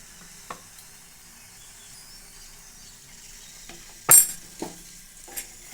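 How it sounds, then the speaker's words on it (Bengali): A radish paratha fries in oil on a pan with a faint, steady sizzling hiss. A few sharp utensil clinks stand out, the loudest near the end. "ভালোভাবে পরোটাটি আমি ভেজে নেব"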